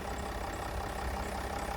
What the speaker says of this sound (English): Let's take a quick look at its 3 litre engine